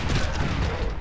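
Cannon fire in Civilization 4 rolls out as a dense, continuous burst of booming, crackling blasts with heavy low rumble, loud and sustained over the whole second.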